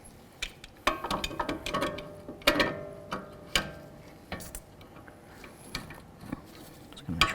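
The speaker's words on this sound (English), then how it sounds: "One of the first things we have to do is break free this jam nut." A wrench works at a tie rod jam nut on a Ford Mustang, producing a run of sharp metallic clicks and clanks at irregular intervals, close up, with no speech.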